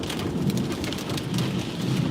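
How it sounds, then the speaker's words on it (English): Hail and rain pound a car roof and body in a wind storm in Scottsdale, Arizona, a dense, steady roar of hard drumming impacts heard from inside the vehicle, with no talking. "I can feel the car shaking with the wind blowing, and it's blowing the hail at us."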